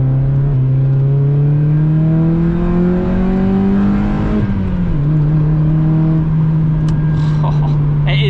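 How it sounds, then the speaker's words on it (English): A loud Mazda MX-5 Mk2 sports car engine roars steadily close by on a night drive in the UK, its pitch rising as it revs and then dropping back to a sustained drone. "don't get me wrong, the car is quite loud"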